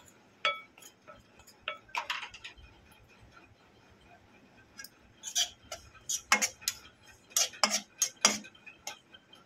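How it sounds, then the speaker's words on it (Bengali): Spoon clinking against a bowl while mixing dry ingredients: Kashmiri chilli powder, salt and black pepper with flour. Scattered sharp metallic taps and clinks, close and fairly quiet, sparse at first and then quicker bursts. "ভালো করে সব শুকনো উপকরণগুলো একসঙ্গে মিশিয়ে নেব।"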